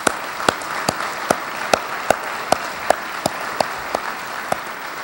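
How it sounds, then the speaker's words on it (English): Applause from an audience at a university staff breakfast, a steady bed of clapping with a few sharp, regularly spaced louder claps standing out near the microphone. "A round of applause for these great leaders."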